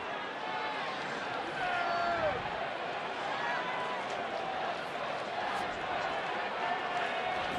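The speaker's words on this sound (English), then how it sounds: "That's about as loud as I've heard the crowd into it here at Fenway Park" Loud, sustained crowd noise at Fenway Park during a Red Sox baseball game, a broad steady roar with scattered whistles and shouts rising and falling slightly throughout.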